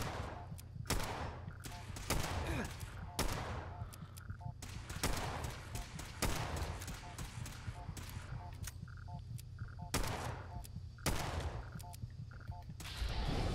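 Rapid bursts of gunfire from the video game Fallout 4, repeated shots in clusters across the whole stretch, fairly loud over a steady low game hum, with a player's voice talking intermittently.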